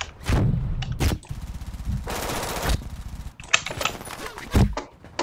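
Gunfire in the shooter game Brink: loud bursts of automatic fire alternating with single sharp shots and a sustained rattling volley, close and punchy, with brief gaps between.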